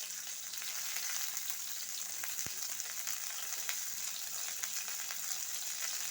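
Onion, garlic, bay leaf and green and dried chillies fry in hot oil with a steady, close hiss and a few brief pops, and no one speaks.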